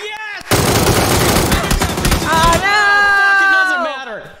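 Sustained automatic gunfire in the battle royale game PUBG, a loud rapid burst that runs for about two seconds, then gives way to ringing tonal game sounds that fade out.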